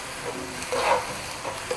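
Shallots and jalapenos sizzling in a pan, a soft steady frying hiss that swells briefly, close and fairly quiet with no talking.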